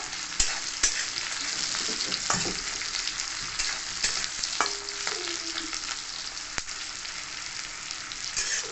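Chopped onions sizzle and fry steadily in hot oil, with occasional stirring clinks against the pan, loud and close throughout.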